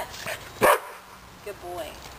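A dog barks once sharply and loudly, followed by softer whimpering yips, while a person talks to it nearby.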